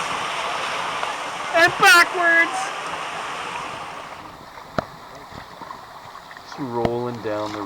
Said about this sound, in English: so this is the hot rapid.